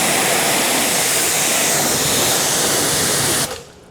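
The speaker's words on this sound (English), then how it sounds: "this is a good pressure washer gun too" A pressure washer gun sprays a Tesla Model Y with a loud, steady, dense hiss of water that runs continuously close by, then cuts off abruptly near the end.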